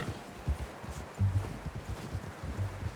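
Horse hooves clip-clop at a walk in Red Dead Redemption 2, a few soft low thuds in an uneven rhythm, fairly faint against a light ambient background.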